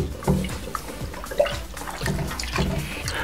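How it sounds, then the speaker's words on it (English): Cold water running from a tap into a pot, a continuous splashing and gurgling flow with small bumps and shifts, fairly close and steady. "I'm going to fill the pot"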